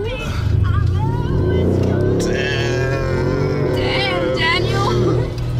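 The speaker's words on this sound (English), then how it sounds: "The sound of this car, though." A car's engine hums and rises while driving on the road, heard from inside the cabin, with people talking over it the whole time.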